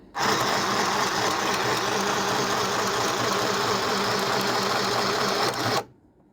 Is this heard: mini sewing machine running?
yes